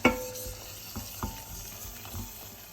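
Sauce with Worcestershire and ketchup being mixed in a pan for Canadian hot chicken, with soft sizzling underneath and a few light stirring knocks, fairly quiet, no talking.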